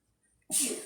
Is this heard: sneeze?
yes